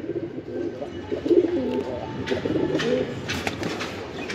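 Close, steady cooing from a group of Chila Giribaz pigeons, repeated low burbling calls overlapping throughout with a faint flutter of wings.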